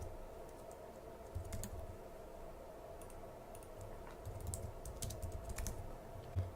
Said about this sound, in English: type in the information